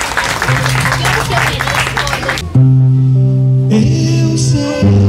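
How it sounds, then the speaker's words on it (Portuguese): Audience applause at an opening event for a Brazilian pastry shop in Mozambique, a dense burst of clapping for about two seconds before music with sustained tones takes over. "Palmas pra eles!"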